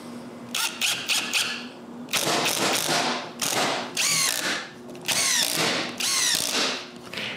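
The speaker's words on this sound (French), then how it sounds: "je la mets sur le premier étage de mon gabarit et je perce des trous de vis" A power drill bores screw holes into a wooden jig in several close, loud bursts of whining spin, separated by short pauses and light knocks.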